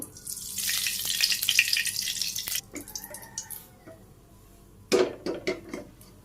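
Eggs seasoned with turmeric, chili and salt frying in hot oil in a wok, with loud hissing and spattering at first, then quieter sizzling and scattered sharp crackles and pops.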